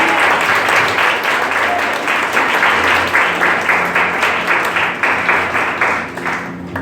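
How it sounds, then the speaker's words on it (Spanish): Church congregation applauding together, a dense, steady wash of many hands clapping with a rhythmic pulse throughout, loud and close, tapering slightly at the very end. "Vamos a darle un fuerte aplauso al Señor."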